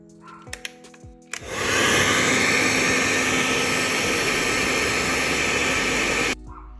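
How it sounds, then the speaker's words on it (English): A hairdryer blows steadily and loudly at close range to dry a doll's face, a continuous whooshing roar that starts abruptly after a few soft handling clicks and cuts off near the end. "One thing that we can try is using a hairdryer to quickly dry it out."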